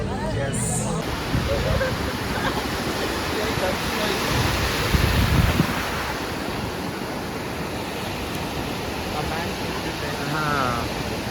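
Surf rolls in at Murudeshwar beach at night, a broad continuous wash of waves with some wind buffeting the microphone and a couple of louder surges.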